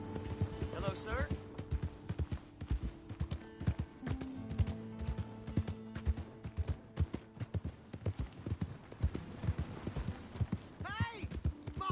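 Horse hooves clip-clop steadily in a PS4 video game, a rhythmic run of close, crisp hoofbeats continuing throughout, with game voices talking over them.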